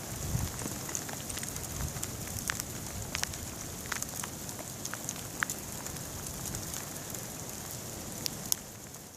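Freezing rain falls outdoors on a winter day, a steady close hiss of drops with scattered sharper ticks and patters throughout, no voices.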